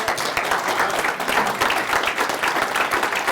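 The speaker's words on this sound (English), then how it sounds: "join me in a round of applause" A standing audience at an Optimist Club gathering claps loudly to welcome a speaker, close, energetic applause with distinct individual claps throughout.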